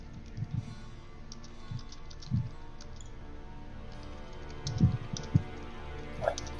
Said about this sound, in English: Not often we see Ember typing for a while